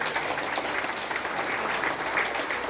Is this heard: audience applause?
yes